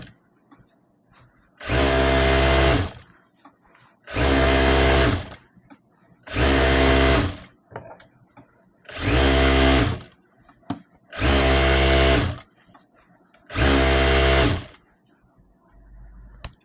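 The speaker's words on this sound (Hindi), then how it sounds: "अब हम इसके ऊपर सिलाई लगाएंगे। ऐसे खींच खींच के आपको सिलाई लगानी है।" Sewing machine stitching elastic onto a dress made from an old saree, running in six even bursts of about two seconds each with short quiet gaps between, loud and close.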